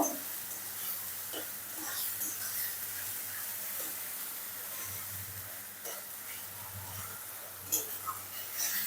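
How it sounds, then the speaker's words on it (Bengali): Steady low sizzling of ginger and garlic paste frying in a pan, with occasional faint clinks and scrapes near the end. "সুন্দর করে আদা রসুনটা ভেজে নেব"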